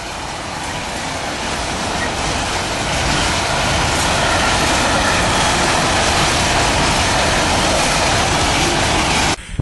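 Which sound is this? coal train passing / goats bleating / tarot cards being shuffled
coal train passing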